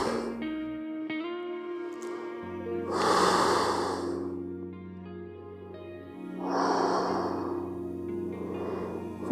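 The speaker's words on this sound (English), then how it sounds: "Take a couple open mouth exhales, releasing some of that heat, some of that energy." During a fire flow yoga session, two long open-mouth exhales whoosh out, breathy and airy, over soft sustained background music, with no speech.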